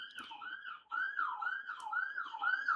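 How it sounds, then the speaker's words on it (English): An ambulance siren wails outside in a steady rising and falling pattern, moderately loud and somewhat distant, with no voices. "sorry for the ambulance"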